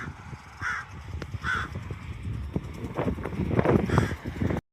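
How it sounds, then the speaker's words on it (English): A murder of crows caws behind the scene at an outdoor memorial site, giving several harsh, separated calls at moderate distance over wind and soft ambient noise. "the murder of crows behind me"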